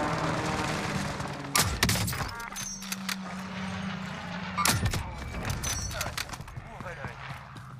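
Gunshots in Call of Duty Warzone on the Caldera map, two sharp sniper cracks a few seconds apart amid clattering game sounds, with someone talking over them.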